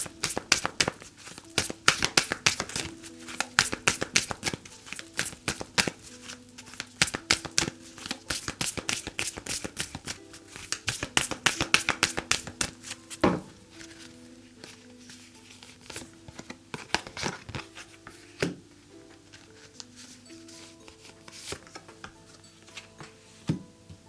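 Oracle cards shuffled by hand in rapid riffling bursts, crisp and close, busiest at first and then thinning into sparser flicks, with soft tonal music sustained underneath.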